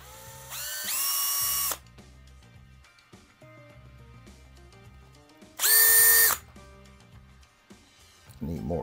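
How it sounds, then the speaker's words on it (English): A power drill spins up twice while boring a hole, each burst a loud high-pitched whine of about a second, with quieter stretches of talking between them. "Need more pressure on this drill bit."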